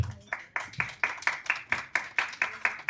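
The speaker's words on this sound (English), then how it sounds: "I don't think that is something I would like you to applaud on" Clapping at a coaching awards celebration, about a dozen distinct, evenly spaced claps in a steady rhythm, fairly quiet and close, with no talk over them.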